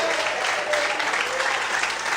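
Church congregation clapping in worship, dense continuous applause throughout, loud and close with faint voices mixed in.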